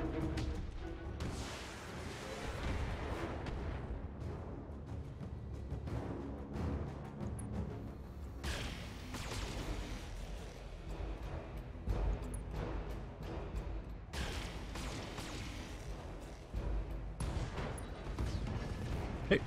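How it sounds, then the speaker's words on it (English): Mech weapons fire in the BattleTech video game as a steady barrage of booming blasts and rumbling explosions, loud and continuous, with sharper impacts every few seconds. "Firing full complement on enemy."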